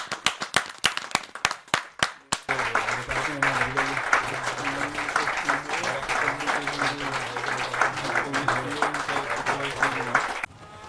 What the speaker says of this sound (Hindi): इनके लिए फिर से एक बार जोरदार तालियां हो जाएं